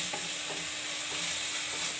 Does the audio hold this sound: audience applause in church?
no